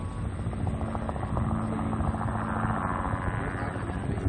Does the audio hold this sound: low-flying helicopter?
yes